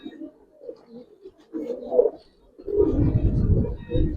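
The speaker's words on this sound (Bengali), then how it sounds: "কবুতর গুলা দেখবেন মাশাআল্লাহ।" Giribaz coloring and khaki pigeons coo in short, husky bursts close at hand, quieter at first and then swelling into a fuller, louder rumble of calls.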